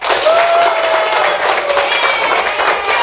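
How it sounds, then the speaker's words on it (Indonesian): A classroom group applauds each team after their presentations. Steady, dense clapping runs throughout, and voices and cheers are mixed in with it. "Aplaus dulu untuk masing-masing kelompok"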